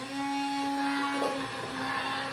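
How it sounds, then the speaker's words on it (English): An immersion blender purees tomato soup with a steady, close whirring hum that shifts slightly in pitch as it works through the pot. "we're going to go ahead and put the blender in and start. It's going to be a little noisy"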